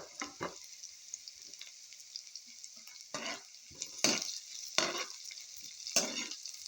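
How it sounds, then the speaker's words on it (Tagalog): Garlic frying in a pan gives a steady sizzle, broken by several sharp scraping stirs toward the end, close and fairly quiet, with no voices. "Next, lagay na natin tong bawang."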